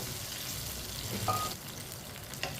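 A spoon stirs potatoes and rice in water inside a cooking pot, a soft wet swishing with a faint sizzle and a couple of small clinks against the pot, close and without talk.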